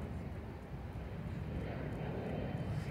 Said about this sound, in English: I think this is a jet right here.